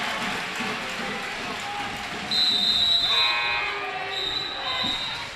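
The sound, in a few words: referee whistle at a girls' basketball game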